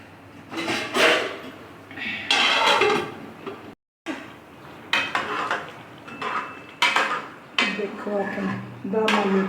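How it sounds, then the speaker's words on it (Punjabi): Metal pots and utensils clatter in a home kitchen while dum aloo cooks, a lid set onto the pot among bursts of clanking and scraping, with a brief pause midway. "ਹੁਣ ਆਪਾਂ 10 ਮਿੰਟ ਤੱਕ ਢੱਕ ਦਿਆਂਗੇ"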